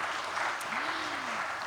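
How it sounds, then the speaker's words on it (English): An audience at a conference panel session on AI in business claps for the moderator, giving soft, steady and somewhat distant applause. "A round of applause, please, for our moderator for this session."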